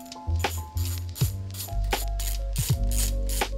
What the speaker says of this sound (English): I'm going to put mine on a ratchet just to make it a bit easier